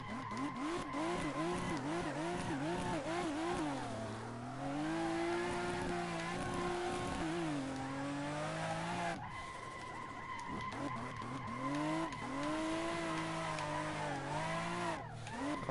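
Drifting car in a simulator game, turbocharged, its tyres squealing continuously through long slides with wavering pitch under a steady, revving engine tone, loud and close throughout.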